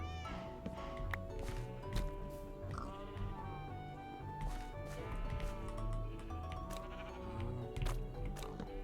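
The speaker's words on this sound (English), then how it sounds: "We'll just let the sheep be in here." Sheep bleat repeatedly amid a busy Minecraft-style game mix, their wavering cries rising over steady background music and other animal noises, with no one speaking.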